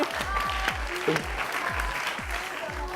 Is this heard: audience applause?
yes